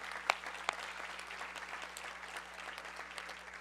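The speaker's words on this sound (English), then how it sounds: "So please give them a round of applause." Audience applause for cabinet members at a mayor's budget engagement forum in a large room, fairly faint and even clapping spread across the crowd, with a couple of sharper nearby claps early on over a steady low hum.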